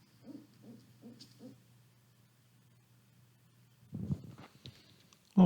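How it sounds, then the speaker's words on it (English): Four soft, evenly spaced barred owl hoots over a low steady hum, followed by a pause and then a louder burst of rustling noise. "barred owls do this really cool thing called caterwauling"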